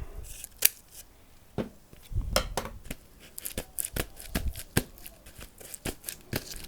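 Sharp scissors snip near at hand through material while a polystyrene gazing ball is prepared for mosaic work, giving a string of quick, irregular crisp cuts.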